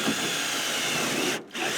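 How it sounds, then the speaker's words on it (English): A power driver sinks a self-drilling screw into a boat rub rail, a loud continuous whirring grind with a brief pause near the end before it resumes. "you'll take your first self-drilling screw and you want to put it in this back hole"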